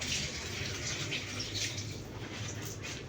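Okra being washed under a running tap: a steady, close gush of water splashing continuously, with no talking.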